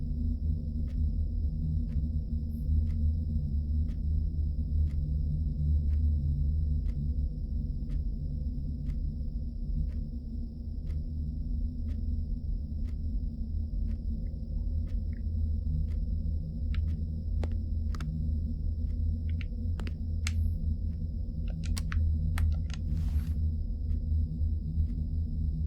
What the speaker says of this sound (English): Do you hear that humming noise?